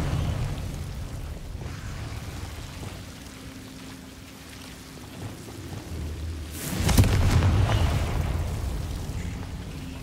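Confringo blasting spell from Hogwarts Legacy erupts as a sudden loud explosive burst after a stretch of low rumbling ambience, then trails off into a roaring, crackling decay.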